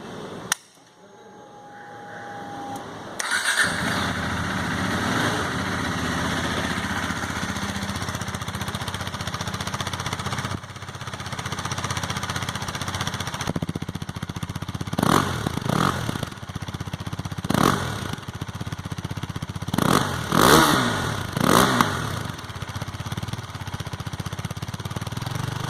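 A 2017 KTM RC390 motorcycle cranks and fires up indoors, settles into a loud steady idle, then is blipped through several sharp revs that rise and fall in quick bursts.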